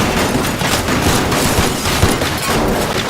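Gunfire in the voxel game Teardown crackles as a dense, loud, continuous barrage of overlapping shots and impacts, with no clear pauses.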